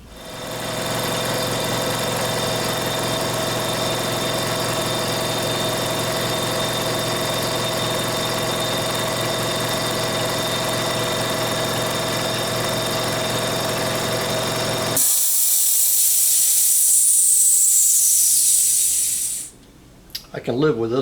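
Two air compressors run in turn in a vapor blast cabinet workshop: a loud, steady droning engine hum for about fifteen seconds, then a higher, hissing roar.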